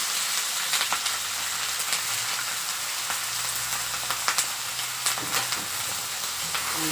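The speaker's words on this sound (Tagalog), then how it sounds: "Gisa na niya yung karne." Meat for Bicol Express sautéing in a pan, a steady close sizzle and frying hiss with occasional scraping stirs, running alone throughout without talk.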